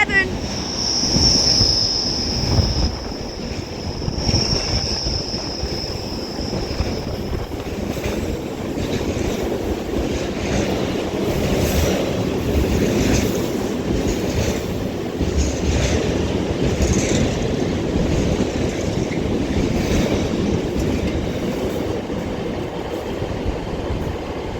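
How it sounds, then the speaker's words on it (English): A Class 90 electric locomotive hauling a Freightliner freight train through Preston station on the West Coast Main Line, a loud, steady rumble of wheels and wagons passing close by, with a high wheel squeal early on. "Class 90 for freight passes through now with the 1415 service"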